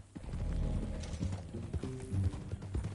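Hooves of a horse clip-clop in a steady, close walking rhythm, with a low rumble beneath and faint voices in the background.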